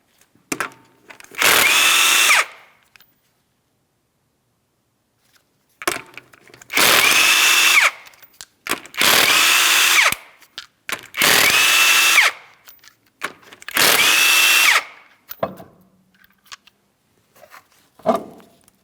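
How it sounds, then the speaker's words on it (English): Power tool removing five 19mm lug nuts from a front wheel on a 2007-2014 Ford Edge, loud close bursts of about a second each repeating with short pauses, plus clicks and clanks of nuts and sockets in between. "you're going to remove all 5 of your 19mm lug nuts, and then we can remove that wheel"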